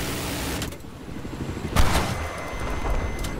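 Gunfire from an attack boat in Battlefield 4 on a naval map, a sharp burst of shots cracking out mid-distance over steady game ambience, followed by fainter trailing reports.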